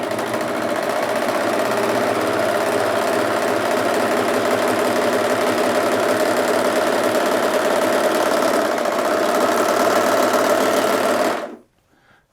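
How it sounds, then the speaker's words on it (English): A four-thread overlock serger runs continuously on double-layer fabric, a steady loud mechanical whir held at even speed for about eleven seconds before stopping abruptly. "I'm just going to grab my foot control, there it is, and start sewing."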